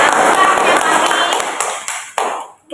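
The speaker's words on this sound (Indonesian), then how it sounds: "Beri aplaus untuk kelompok 1." A classroom of students claps for a group, a dense burst of hand claps that thins out and fades over a couple of seconds, ending with a few scattered claps.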